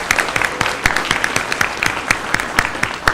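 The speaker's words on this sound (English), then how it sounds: "Yes, you can clap for that." An audience at a school board meeting claps for incoming 7th graders, a short burst of brisk, uneven applause from a modest crowd in a room.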